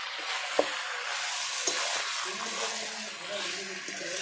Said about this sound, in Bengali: হালকা আঁচে আমি মাংসটা ভালো করে কষে নেব।